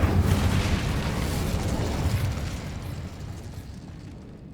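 An Incendio fire spell cast in the Hogwarts Legacy video game erupts as a loud, roaring burst of fiery rumble that slowly fades over several seconds, with no talk.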